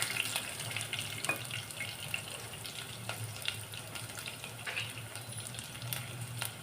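Fenugreek, fennel seeds and garlic sauté gently in a pan for fish curry, giving a faint, continuous sizzle with light crackles and no voices.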